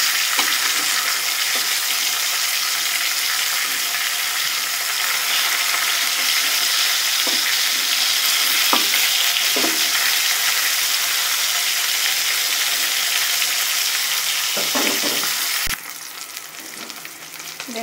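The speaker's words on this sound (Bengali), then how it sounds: "আমি এখানে 5 পিস মাছ ভাজি নিয়েছি।" Rui fish pieces frying in hot oil, a loud continuous sizzle with occasional spits and stirring clatter, then a sudden drop in intensity near the end; no voices.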